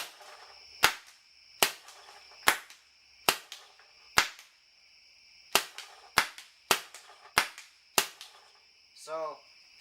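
A Planet Eclipse Etek 4 and a Dangerous Power FX paintball gun fire about a dozen sharp, snappy shots at irregular intervals, loud and close, and a brief voice is heard at the end.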